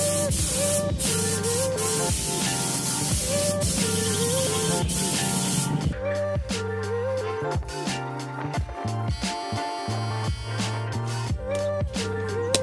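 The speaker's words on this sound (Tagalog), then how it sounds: "Bali, isang spray lang dito sa loob." A first coat of plain white paint hisses steadily from a spray gun, loud and continuous, with a machine hum and tonal mechanical whine running underneath.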